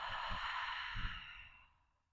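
A slow, audible exhale during a gentle yoga breathing exercise for amputees, a breathy whoosh lasting about a second and a half that softens and fades out, close and alone.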